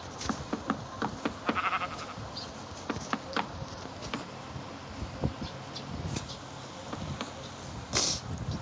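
Minecraft sheep bleat several times at a low volume amid soft game sounds and scattered clicks and taps, with no speech.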